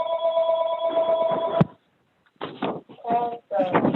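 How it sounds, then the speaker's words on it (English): Telephone bell ringing steadily in a borough council meeting room, then cut off abruptly, followed by people talking. "Don't worry about that phone ringing."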